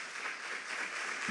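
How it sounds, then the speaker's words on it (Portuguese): A church congregation applauds, and the clapping comes as a faint, dense, continuous patter throughout. "Vamos aplaudir o nosso Deus, então, bem forte."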